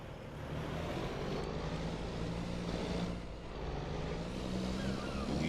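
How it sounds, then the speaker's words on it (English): A loud truck engine in Farming Simulator 25 drones steadily and continuously, a heavy, even rumble with no breaks and no voices. "Just such a loud truck, it really is."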